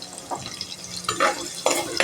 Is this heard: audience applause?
no